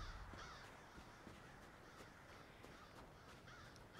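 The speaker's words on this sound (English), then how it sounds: "So spooky when there's crows around." Crows cawing in Elder Scrolls Online, Western Skyrim, several harsh caws at a moderate distance over a faint ambient background, with no talk.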